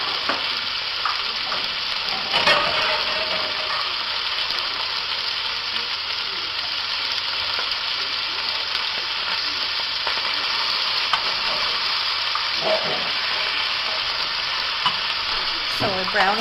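Rouladen beef rolls, seasoned with Lawry's seasoned salt, brown in a hot pan with a steady, even sizzle and occasional soft scrapes and clinks from turning them.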